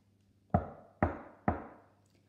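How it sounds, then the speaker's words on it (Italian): Three firm, evenly spaced knocks on a door, each a sharp hit with a short ringing decay, heard clearly against a quiet room. "Sente bussare."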